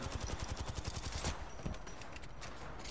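Video game gunfire rattles in rapid automatic bursts, a steady rhythmic stutter of shots with one louder crack midway, then fading to scattered fire.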